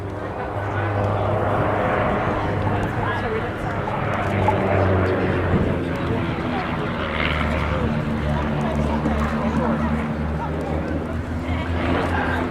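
Vintage de Havilland Chipmunk propeller aircraft performing at an airshow, a steady droning engine and propeller hum held throughout, with a commentator's voice running over it.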